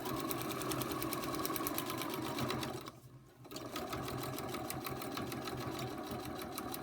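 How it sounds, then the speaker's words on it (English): A sewing machine stitches a line through layered quilt fabric for a Sugar Baby Hummingbird foundation paper-pieced pattern, its fast, even needle chatter running close and steady, pausing briefly midway before resuming. "now I'll go sew this line. Starting at the dotted line."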